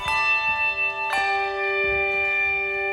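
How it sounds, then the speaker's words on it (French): Handbells, as used for English change ringing, struck twice in quick succession with bright, sustained ringing tones that linger and decay, then a softer third strike, with no talking. "c'est vraiment des handbells, des cloches à main."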